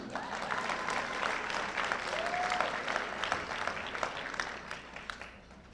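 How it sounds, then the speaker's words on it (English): Lecture audience claps steadily for several seconds, a dense even patter of hands with a faint voice sliding briefly through the middle, fading slightly toward the end. "It's okay to applause, please."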